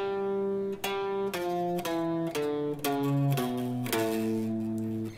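An acoustic-style guitar plucks the Hindu mode scale in A as clean single notes, one after another at a steady pace, each ringing briefly before the next, played alone.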